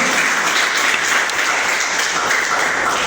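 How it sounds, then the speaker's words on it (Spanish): Steady, dense applause from a church congregation honoring Jesus Christ during a sermon, sustained and even for about three seconds with no voices on top. "¿Cuánto le dan un aplauso a Jesucristo por eso?"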